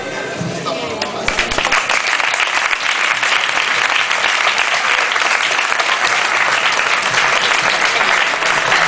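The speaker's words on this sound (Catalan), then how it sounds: "crec que el públic ja sap que va a aplaudiments" Audience applause at a poetry improvisation contest in Barcelona, a dense, sustained wave of many hands clapping that swells in quickly and holds loud and steady throughout, with a voice faintly heard at the start.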